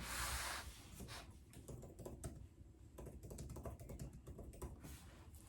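Typing on an Apple Magic Keyboard for an iPad Pro 11-inch: a steady run of quick, light key clicks close up, with a brief soft rustle at the start and no talking.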